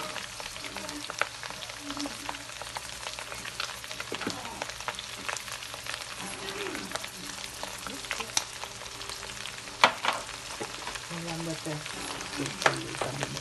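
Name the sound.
sautéing pork giniling, eggplant and bagoong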